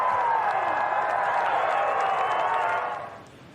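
A large golf crowd at the 2024 PGA Championship roars and applauds loudly after a shot, a dense sustained wash of cheering and clapping that fades away near the end.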